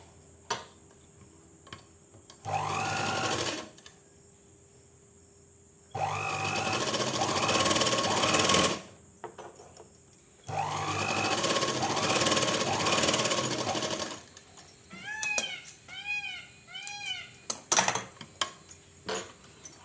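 A sewing machine stitches a churidar pant in bursts of rapid mechanical rattling, three runs of a few seconds each separated by pauses, ending in lighter ticks and clicks.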